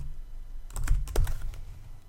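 Quick bursts of keystrokes on a computer keyboard, a short cluster of clicky taps in the middle of an otherwise quiet moment, close and clear.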